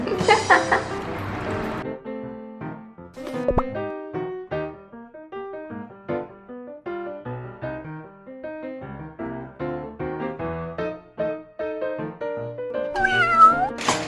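Pet cat meowing, with brief sharp cries near the start and end over a bed of melodic background music.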